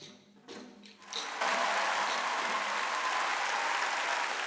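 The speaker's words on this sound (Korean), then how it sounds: "그들이 보내는 기립박수" Parisian audience giving a standing ovation after a Korean children's folk performance; after a brief quieter start the applause swells into loud, sustained, dense clapping filling the hall.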